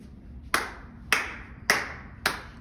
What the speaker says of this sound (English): Clap, clap, clap your hands together.